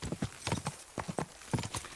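Horse hooves in Kingdom Come Deliverance 2 clip-clop in a quick, steady trot, each footfall crisp and close.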